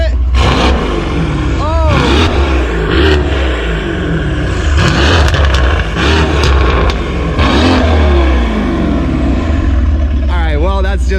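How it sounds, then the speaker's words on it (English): A wrecked 2019 Mercedes C63 AMG being rebuilt revs loudly up close in repeated sharp bursts over a steady engine rumble, with people talking and exclaiming over it. "So this, go ahead and rev it."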